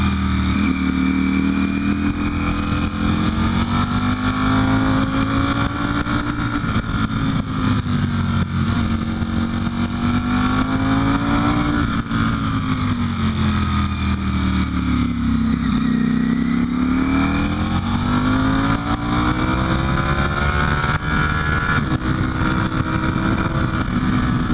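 A Ducati Panigale V4 Speciale is ridden hard through canyon roads, its engine loud and continuous, rising and falling in pitch as the throttle is worked through bends.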